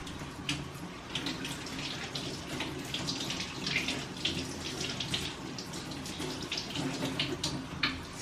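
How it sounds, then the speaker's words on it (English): Water runs from a kitchen tap over hot Italian sausages in casings, a steady close splashing stream with small irregular spatters throughout, no talking. "I'm sorry, I gotta rinse that off."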